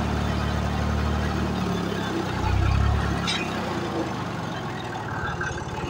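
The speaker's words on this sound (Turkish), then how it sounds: "Traktör sürerken" A tractor engine runs steadily while driving during pepper and apple harvest work in Karaman, its low, continuous rumble rising briefly in loudness midway before settling back to an even drone, with no talk over it.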